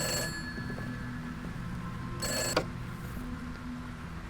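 A telephone bell rings in short, bright bursts, one at the start and another around the middle, fairly close against a low steady background hum, with no voices.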